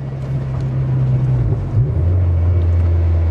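Mazda MX-5 NC with a swapped 2.5 litre engine accelerating hard in second gear, a steady loud engine drone with a low pitch that drops briefly and then holds, with wind rush over it.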